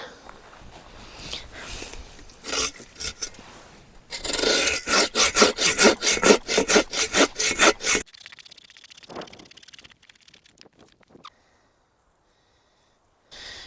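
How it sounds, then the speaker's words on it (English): Firewood is sawn by hand at a campsite: rough rasping strokes build into a fast, loud, even back-and-forth rhythm for several seconds, then stop, leaving faint rustling and quiet. "So I'm just gonna saw some up so we can get our fire going"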